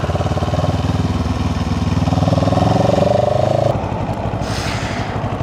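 CFMOTO CLX 700 Sport motorcycle ridden on a highway with its engine droning loud and steady, rising in pitch as it pulls, then easing off partway through as wind rushes over it.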